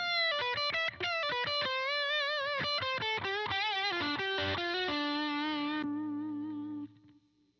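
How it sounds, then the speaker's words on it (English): An electric guitar on its humbucker pickup plays a quick bluesy lick through a Princeton Reverb amp with light crunch, bending notes before ringing out on a sustained chord that fades to silence. "that's just a little like blues amp crunch"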